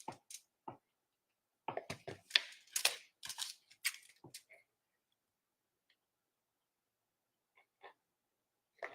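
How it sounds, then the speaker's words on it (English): Scissors snipping through a rubber flip-flop strap at a craft table: a cluster of close, crisp cutting clicks and crunches in the first half, then quiet with a few scattered faint snips. "And this cuts real easy with the scissors."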